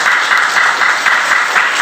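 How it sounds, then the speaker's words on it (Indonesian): First-grade pupils in a classroom clap for a group of classmates, a short burst of loud, fast, uneven hand clapping. "Beri tepuk tangan untuk kelompok 3."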